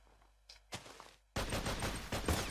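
A few separate shots crack out, then a dense burst of rapid gunfire continues in Minecraft combat against zombies, sharp and loud.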